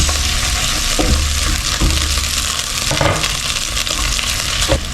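Tomatoes frying in a pan with onion over an outdoor catch-and-cook fire, a loud steady sizzle with a few scraping stirs, no voices.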